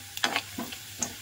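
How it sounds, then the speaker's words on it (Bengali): Cumin seeds and chopped dried red chillies crackle in hot oil for a spicy flattened-rice pulao, heard as a soft sizzle broken by a few quick stirring scrapes. "এবার এই তেলের মধ্যেই আমি জিরে ফোড়ন দেব আর শুকনো লঙ্কা ফোড়ন দেব।"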